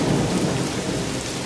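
A loud thunderstorm with heavy rain pouring down and wind, a dense continuous roar filling the short stretch with no voices.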